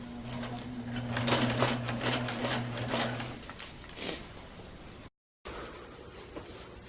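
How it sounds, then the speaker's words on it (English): A sewing machine runs close by as it stitches the center seam of a camping tarp, its rapid mechanical chatter and motor hum steady at first, then stopping and giving way to quieter handling noise. "You can see I'm starting to do the stitching on the main center"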